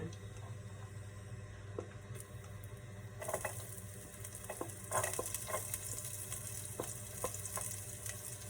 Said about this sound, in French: Donc, notre huile est en train de chauffer. Je vais mettre l'ail, 3 gousses d'ail